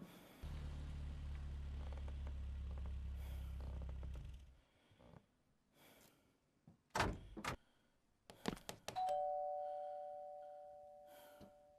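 In the video game Fears to Fathom 5, a two-tone electronic doorbell chimes near the end, after a low mechanical hum cuts out and a few sharp knocks and clunks.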